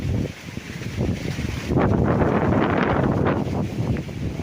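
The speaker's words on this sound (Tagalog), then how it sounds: "Sarap ng hangin, ah." Wind buffets the microphone on a farm lot in Majayjay, Laguna, a continuous rushing roar growing stronger and gustier after a moment, with no voices.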